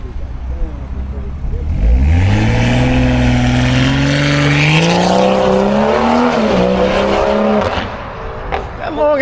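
A car with a long gear is driven hard, its engine revving and climbing in pitch through a sustained pull before easing off near the end, loud and close with people talking over it.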